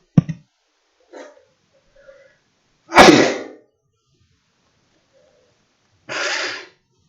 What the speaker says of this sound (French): J'ai éternué en fin de compte apparemment.